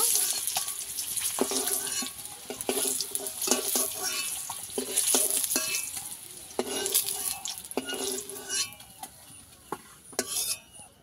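Eggs mixed with salt and turmeric frying in a pan, a steady sizzle broken by repeated sharp scraping stirs of the spatula, close and fairly loud with no talking.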